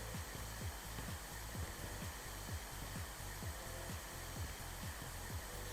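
Vacuum cleaner in the renovation game House Flipper 2, a steady loud broadband whoosh with rapid rhythmic pulsing underneath, running continuously with no voices.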